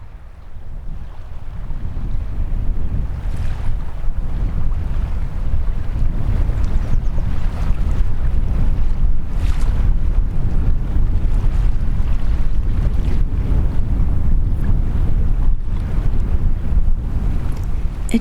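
Water and wind near the Confederation Bridge by the island: a loud, steady rush of wind buffeting the microphone over lapping waves, continuous and close throughout with no voices.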